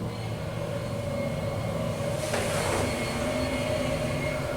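An Otis Series 4 hydraulic elevator descends with a steady low hum and rumble, a faint tonal whine running through it and a brief brighter hiss midway, heard close from inside the cab.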